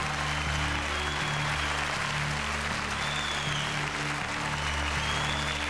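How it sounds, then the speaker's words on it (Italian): Audience applause at the Miss Italia 2005 pageant, a dense continuous wash of clapping from a large crowd, loud and steady throughout, with a rhythmic low musical backing underneath. "l'applauso più forte è per colei che viene eliminata e che comunque è tra le prime 10"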